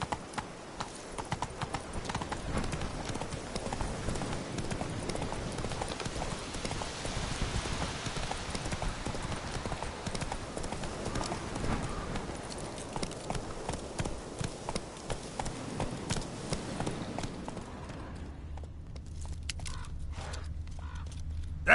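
Hoofbeats of Roach, a horse in The Witcher video game, running at a quick rhythmic gallop, close and clear under a rainy ambience, slowing to a sparser clip-clop near the end.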